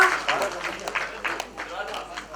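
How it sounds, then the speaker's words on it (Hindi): Audience at a film trailer launch event clapping in a loose, continuous patter of applause with some sharper individual claps. Voices murmur and talk underneath. "Please clap for everyone."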